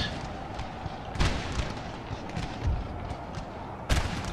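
Canister shot artillery in Napoleon Total War fires as scattered heavy booms over a dense, rumbling battlefield din, with two especially strong blasts standing out amid the continuous noise.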